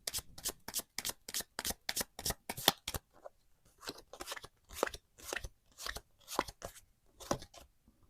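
Tarot cards are shuffled and drawn in close, rapid bursts of crisp riffling and snapping, with a short pause midway before the dry card flicks resume. No voice is heard.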